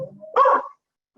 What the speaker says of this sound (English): I have two barking dogs